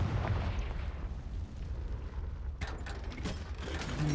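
Confringo fire-blast spell in Hogwarts Legacy, heard as a heavy rumbling blast with crackling debris over a dense game soundscape, followed by a sharper burst of bright impacts near the end.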